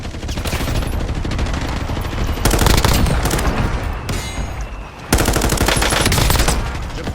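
Loud, close automatic gunfire in a shooter video game: dense rattling bursts that fire almost nonstop, broken by brief gaps.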